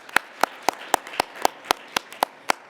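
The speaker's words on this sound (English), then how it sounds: "One final clap for everyone." Single claps ring out one at a time in an even, steady rhythm, about ten sharp hits in under three seconds, close and clear with no talk over them, as if one person were clapping for an audience at a group session.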